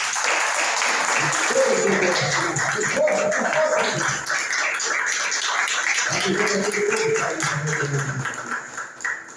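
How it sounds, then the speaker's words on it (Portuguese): Congregation applause during a church service, a dense patter of clapping running throughout, with voices talking and singing over it in two stretches. "Podemos ter uma salva de palmas para o Senhor essa noite."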